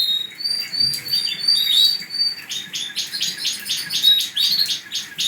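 A songbird sings up close, a rapid series of bright chirps and trills repeating in quick rhythmic bursts, with no talking.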